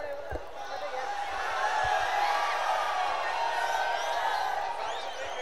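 A crowd makes a steady, swelling roar at a women's dahi handi final, a human-pyramid festival competition. The dense noise builds and holds for several seconds, with a few thumps and faint whoops inside it.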